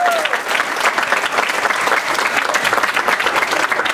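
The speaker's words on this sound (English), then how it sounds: "if we get a big round of applause for all of them" A crowd at a PlayList Live family panel applauds the panelists with steady, dense clapping that stays loud and even across the short stretch, a few cheers and voices faintly mixed in.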